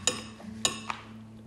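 Knife and fork clink against a plate during a meal of roast chicken marinated for 20 hours, three light, bright taps spaced apart over a soft background hum.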